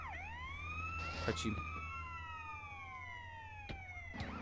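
Ambulance siren in the video game GTA San Andreas, a wailing tone sweeping slowly up and down over a low engine drone, with someone talking briefly over it.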